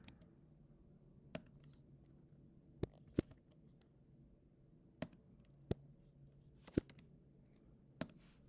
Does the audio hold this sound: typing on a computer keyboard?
yes